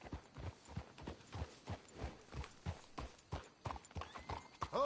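Horse hooves clip-clopping in Red Dead Redemption 2, a steady run of soft rhythmic hoofbeats close by with a faint whinny near the end, no talk.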